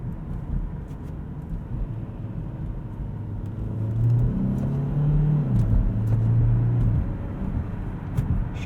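A 2017 Kia Optima Hybrid EX accelerates from inside the cabin in manual shifting mode. The engine drone rises in pitch, drops at a quick shift and rises again over steady road rumble, with no talking.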